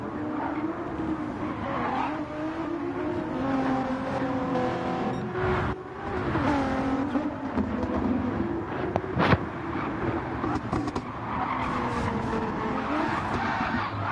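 GR.3 race cars racing at Bathurst in a video game, engines roaring in a dense continuous pack with shifting revs and tire squeal, loud and close, with no talking.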